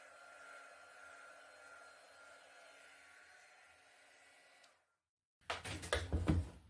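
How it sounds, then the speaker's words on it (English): A heat gun blows steadily over freshly poured acrylic paint in a funnel pour, a continuous airy hiss that runs for several seconds, cuts out abruptly, then gives way to louder clattering handling noises. "I think I'm just going to hit it quick with a heat gun"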